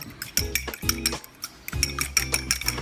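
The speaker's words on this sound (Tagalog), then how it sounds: "First, scramble natin yung egg." Egg is whisked for chicken à la king, a utensil clinking rapidly against the bowl in two bursts of quick, bright, rhythmic taps with a short pause between them.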